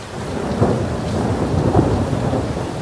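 A thunderstorm beating on a cruise ship, with a constant heavy wash of rain and low rolling thunder rumbles swelling underneath, loud and close.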